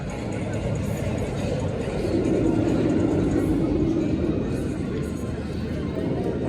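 Empty test trains run on a roller coaster at Six Flags Magic Mountain, a continuous rolling rumble with a louder swell midway, under the steady chatter of a nearby crowd.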